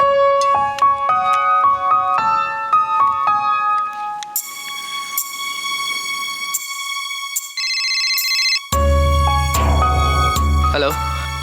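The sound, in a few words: phone ringing while calling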